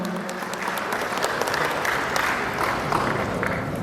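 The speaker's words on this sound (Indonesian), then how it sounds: "Kita iringi juga dengan tepuk tangan Bapak Ibu semua." Crowd of attendees clapping at an official ceremony in Palembang as a police chief hangs garlands on village officers, an even, sustained wash of applause heard from some distance at moderate level, no voices on top.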